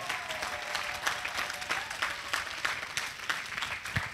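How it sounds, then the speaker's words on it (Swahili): A church congregation applauding during a sermon on prayer, a fairly quiet, steady patter of many hands clapping at a distance, with no one speaking over it. "Pigia Yesu makofi, amekusaidia sana."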